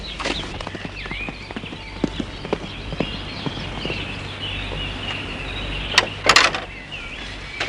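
Hooves of a grey horse, exhausted and partly lame, clip-clop in an uneven series of close, sharp knocks over a steady outdoor background, with a brief louder scraping burst near the end.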